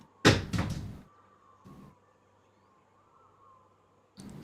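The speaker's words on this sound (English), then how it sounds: "Cat's knocking things off the kitchen counter." A cat knocking objects off a kitchen counter, heard as a couple of close clattering thuds followed by a softer knock, then near silence with a faint hum, and another clatter at the end.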